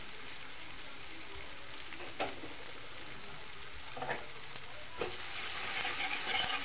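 Taro stolons frying with chilli powder as they are stirred, a quiet continuous sizzle broken by a few sharp spoon scrapes, with the hiss swelling slightly at the end.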